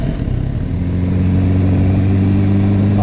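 Four-cylinder MV Agusta Brutale motorcycle riding at low revs on a road, a steady smooth engine hum with strong low harmonics, loud and continuous throughout, with no talking.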